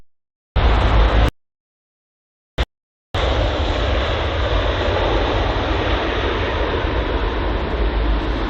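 Jet engine noise from a Qatar-registered aircraft, A7BFP, at London Heathrow: a broad, steady roar that cuts in and out in short bursts at first, then continues unbroken at moderate loudness.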